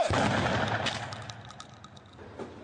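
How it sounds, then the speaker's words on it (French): A controlled explosion of booby-trapped bags during a Moroccan Royal Gendarmerie training exercise, heard as a loud sustained blast rumble that fades, followed by scattered sharp cracks and debris sounds. "Explosion contrôlée de sacs piégés."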